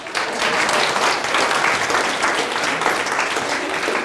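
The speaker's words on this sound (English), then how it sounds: "Give yourself a round of applause" A dense, steady wash of audience applause at a personal development talk, many hands clapping together at an even loudness throughout, with no voices standing out.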